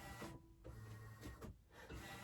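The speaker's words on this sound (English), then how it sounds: "It's already a little bit noisy because the printer's running." A printer runs while producing art prints, a steady mechanical whirr with rhythmic pulses and brief quieter gaps as the carriage moves, faint but continuous and alone.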